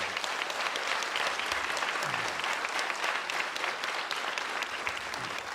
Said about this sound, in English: a warm round of applause for Hugh.